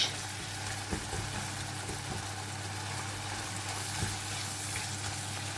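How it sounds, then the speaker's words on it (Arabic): Shrimp fry in a pan with a steady, close sizzle over a low, constant hum, with a few soft knocks along the way. "هسه من حمصت الروبيان، لا تحمصوه هواية لان يصير يابس"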